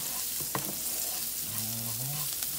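Rice fries and sizzles in a pan while being stirred, with steady close crackle, sharp scraping clicks and a brief rising tonal whine partway through.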